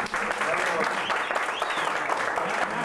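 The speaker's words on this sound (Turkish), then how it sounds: "Kendisini bir kez daha alkışlamanızı istiyorum" An audience claps steadily after a singer's performance, a thick sustained round of applause with faint voices mixed in underneath.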